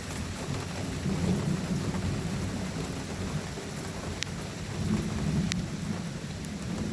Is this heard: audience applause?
no